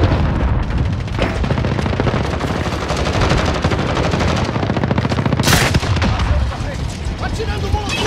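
Relentless automatic gunfire and explosions from Call of Duty: Modern Warfare fill the whole stretch, loud and continuous, with rapid shots layered over booming blasts and one sharp burst partway through.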